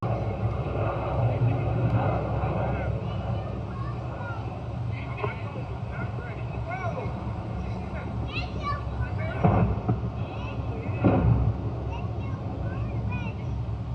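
MiG-23 fighter jet flying low at treetop level just before the pilot ejects, a steady broad engine roar throughout with brief louder bursts, while bystanders and children talk nearby.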